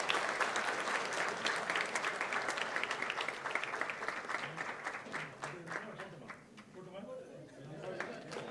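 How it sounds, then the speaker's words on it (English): Audience at a university convocation ceremony breaking into sustained applause, a dense crowd clapping that rises quickly and continues for several seconds before thinning out, with some murmuring voices beneath. "Please give a big round of applause."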